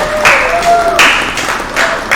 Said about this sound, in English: Real freaking claps, y'all.